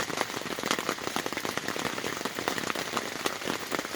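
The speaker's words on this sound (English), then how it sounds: "It's been raining since like 3 in the afternoon" Steady rain patters densely on a surface at a canoe camp in the night, a constant close hiss of drops with no voices.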